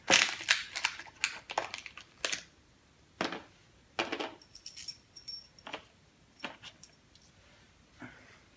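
Metal bolts for a PowerBlock chin-up bar being handled and jostled, giving a loud burst of clinking at first, then scattered sharp metallic clicks and jangles with short pauses between them.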